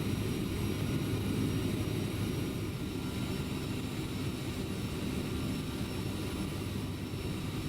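Simulated CRJ700 jet airliner cruising in flight in Microsoft Flight Simulator 2020, a steady, loud low engine and airflow drone that holds evenly throughout with no talk.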